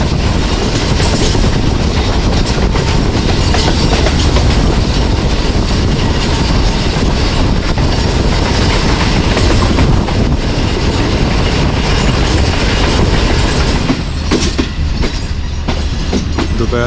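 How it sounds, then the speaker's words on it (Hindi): A moving early-morning passenger train, heard from inside an air-conditioned parlour car, gives a loud, continuous rumble and rattle of wheels on track, easing slightly near the end. "सोहावा रेलवे स्टेशन से पास हुई है ट्रेन हमारी"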